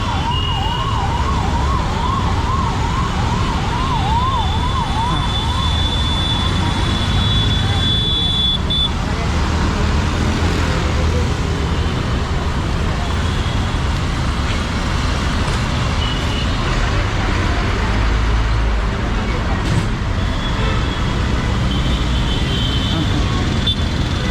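A bus arrives and moves through loud, steady Mumbai road traffic; a wailing emergency siren rises and falls early on, and voices are heard under the constant roar.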